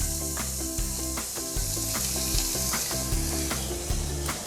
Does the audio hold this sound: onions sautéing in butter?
yes